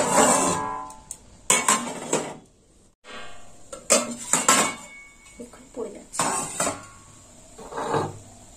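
A lid goes onto a pan of tilapia curry with a series of loud metallic clanks and clatters in uneven bursts, close by, separated by brief pauses.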